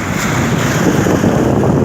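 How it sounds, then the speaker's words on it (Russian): Waves rolling onto a shore, a loud continuous rush of surf mixed with heavy wind noise, steady throughout with no voices. "Волна на берег, все накатывает."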